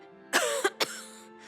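In Oblivion Remastered, set in the Shivering Isles, a sick character gives a short burst of harsh coughs, close and fairly loud, over a low steady hum.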